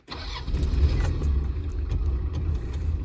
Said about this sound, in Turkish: Şöyle bir çalıştıralım arabamızı.